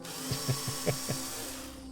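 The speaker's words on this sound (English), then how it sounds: "I think I can just drill a hole through this battery casing" A power drill bores through a plastic battery casing, its steady whirring motor overlaid by several soft, rhythmic bumps as the bit cuts, close and fairly quiet.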